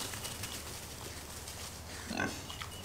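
Baby feeder pigs on a farm, a soft brief oink or grunt near the end over a faint, noisy background.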